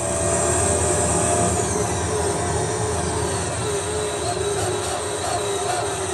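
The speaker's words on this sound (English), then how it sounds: "What a crazy noise this car makes." Loud, continuous engine howl from the Pagani Zonda race car in Gran Turismo 3, a sustained high-rev drone with a faint pitch shift partway through, alone and close throughout.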